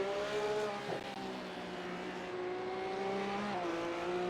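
Porsche Cup race car in a racing video game at Imola, engine whining at high revs, dipping sharply as it brakes hard, then climbing again, steady and close throughout.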